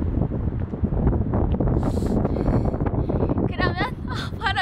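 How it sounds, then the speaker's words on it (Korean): Strong wind buffets the microphone in a continuous loud roar on a seaside outing, with a voice cutting in briefly toward the end. "바람이 너무 불어."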